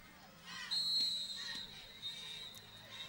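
Referee whistle blasts for a timeout at a middle school championship football game, a sharp high tone at mid-distance over crowd murmur and stadium ambience.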